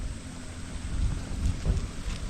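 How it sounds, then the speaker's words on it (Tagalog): Rain and thunder at a home in a rice-farming area, a steady hiss of rainfall with deep rumbling thunder swelling in the middle, loud and continuous. "Tulad naman ang ulan yata."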